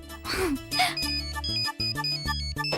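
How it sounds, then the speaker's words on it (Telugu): A mobile phone rings with a bright, melodic electronic ringtone for an incoming call, loud and close, its repeating tonal phrases filling the short stretch with no talking over them. "సురేష్ నాకు ఫోన్ చేస్తున్నాడేంటి?"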